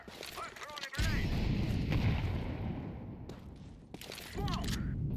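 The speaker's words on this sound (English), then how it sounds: "I'm throwing a grenade." Grenade blast in a video game, a sudden heavy boom with a long rumbling tail that fades over a few seconds, followed by a second rumble, with a voice talking briefly before and after.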